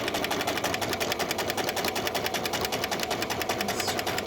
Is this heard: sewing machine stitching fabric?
yes